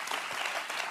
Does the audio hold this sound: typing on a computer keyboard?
no